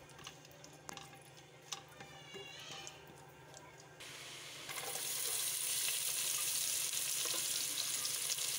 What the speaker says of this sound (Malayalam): അപ്പം നമ്മൾ സവോളയും കൂടി ഇട്ട് വഴറ്റിയെടുക്കുകയാണ് ചെയ്യുന്നത്.